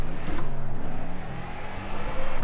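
In the Project Cars racing game, a car engine roars loudly and steadily while the car spins out during a drift, the steady whirring roar changing slightly as it slides.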